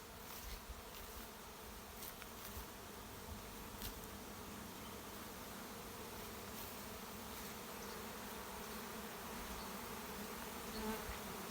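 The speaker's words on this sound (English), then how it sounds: "there's bees just everywhere in the air here" A swarm of honey bees fills the air in July, a dense continuous buzzing drone that stays steady and close throughout, with no voices.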